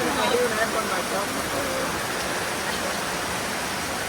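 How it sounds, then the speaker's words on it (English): Heavy rain pours steadily during a thunderstorm in the Philippines, a dense continuous hiss that stays loud and even throughout, close by with no talk over it. "So it's so heavy, this rain"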